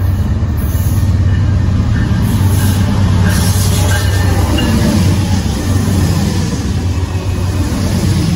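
Freight train 29G rolls past at Union, New Jersey, a boxcar leading: a loud, continuous low rumble of wheels and cars, close by and steady throughout with no voices.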